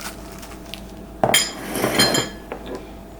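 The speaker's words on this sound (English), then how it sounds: "So first we're gonna mix our onion with our ground beef" Chopped onion and ground beef are worked together in a bowl, giving a few sharp clinks and scrapes of utensil against the dish, clustered in a brief burst with quieter taps around it.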